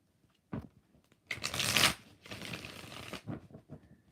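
A deck of tarot cards is shuffled in a few quick riffling bursts, close and crisp, with short taps and rustles between them and no talking.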